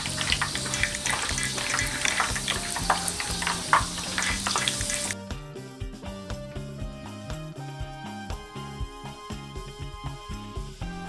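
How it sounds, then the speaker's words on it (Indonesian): Loud crackling sizzle of chicken and vegetable nuggets frying in hot oil over medium-low heat, steady and close, with rhythmic clinking and a softer, more muffled stretch in the second half. "Lalu goreng dengan minyak panas dengan api sedang agak kecil."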